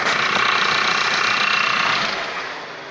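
A 1999 Saab 9-3 engine with high mileage and a suspected bad ignition coil runs rough, a close, loud, uneven buzzing drone with a faint knocking pulse that eases off slightly toward the end.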